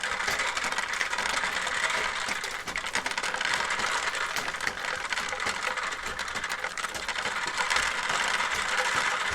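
An agitator on a 100+ year old antique dry bean sorter works back and forth, giving a continuous dense rattling and clicking of beans and mechanism, steady and fairly loud throughout with no talk.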